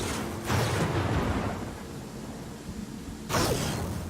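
Lightning spell striking in Pathfinder: Kingmaker: two sharp, booming thunder cracks a few seconds apart, each decaying into a rumbling roar over steady background ambience.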